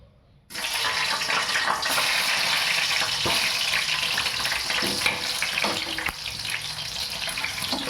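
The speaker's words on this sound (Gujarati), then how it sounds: "તેલ ગરમ થઈ જાય એટલે આપણે બટેટી તળી લેવાનું છે" Small baby potatoes fry in hot oil, a loud, dense, continuous crackle and hiss that starts abruptly after a brief quiet moment and holds steady throughout, with no talking.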